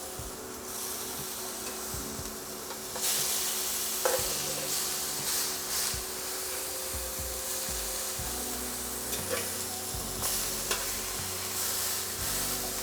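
Smash burger slider patties sizzle in a hot pan, giving a constant close crackle with occasional scraping and clicking. No one speaks.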